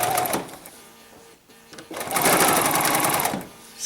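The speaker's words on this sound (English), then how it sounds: "Just going to sew all the way down." A BERNINA 880 sewing machine stitches a zipper in short bursts, loud and close, with a brief pause between runs and a longer steady run toward the end.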